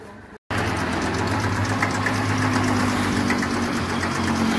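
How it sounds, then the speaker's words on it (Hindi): A 1993 Massey Ferguson 1035 DI diesel tractor engine idling close by, a steady loud low chugging rumble with a fast regular knock, starting suddenly after a brief gap and running on evenly. "क्या गजब इंजन है इस ट्रैक्टर का"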